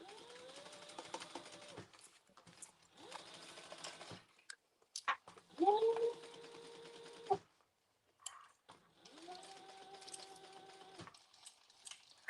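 A sewing machine stitches a harmonica hobo bag in several short bursts of rapid whirring, each run stopping abruptly, with quiet pauses between and people talking softly in the gaps.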